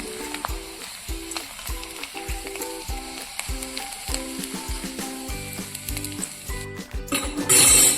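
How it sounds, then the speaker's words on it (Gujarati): Papad frying one at a time in hot oil for a farali fasting thali, a steady close sizzle with bubbling, set against a rhythmic tonal background, swelling louder near the end. "હવે પાપડ તળી લીધા છે"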